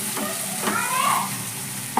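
Masala with salt for a stuffed brinjal curry is stirred as it fries in a pan, a close, continuous sizzle with scraping strokes of the spoon every half second or so.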